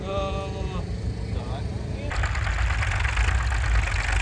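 A vintage Allis-Chalmers WD tractor engine runs steadily at a plow day, a low rumbling idle that grows louder and fuller partway through, with people talking nearby early on.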